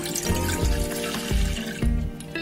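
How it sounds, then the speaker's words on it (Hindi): About a glass of water is poured into a saucepan, making a steady splashing, gurgling flow with rhythmic surges, close and moderately loud with no speech. "सबसे पहले हम एक बॉइलिंग सॉस पैन में अपना पानी डाल देंगे"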